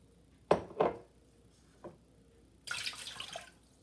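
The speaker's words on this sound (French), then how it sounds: "Je commence à mettre l'eau avec le sucre." Water poured with sugar into a pot to make syrup, a few close splashy pours followed by a longer, steadier stream of liquid, with no talk.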